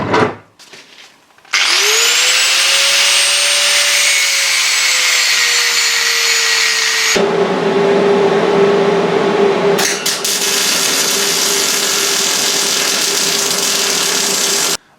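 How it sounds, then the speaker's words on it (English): An angle grinder cuts into car shock absorber fittings on an Opel Kadett project. It spins up with a loud high whine, bites into metal in a sustained grinding roar, cuts out, then starts again, all very close and loud. "So, these are a little bit too tight, so I'm just going to use the grinder to make them"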